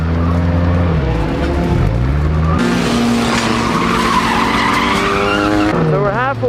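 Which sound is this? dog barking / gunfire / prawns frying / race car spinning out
race car spinning out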